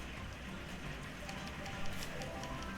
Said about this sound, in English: Oh, it's raining! It's raining!